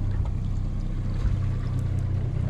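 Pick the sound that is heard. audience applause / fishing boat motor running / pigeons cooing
fishing boat motor running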